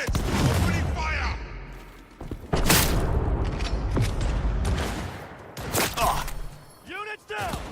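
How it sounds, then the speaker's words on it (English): Gunfire bursts and heavy booms from a firefight in the video game Cyberpunk 2077, loud and repeated through the clip and mixed with game voices. "Opening fire!"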